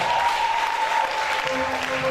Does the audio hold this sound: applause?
yes